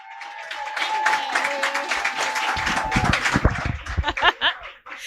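Audience at a comedy show applauding as comedian Nicci Hejnar takes the stage, a dense wash of clapping building and then breaking into louder scattered claps with some laughter.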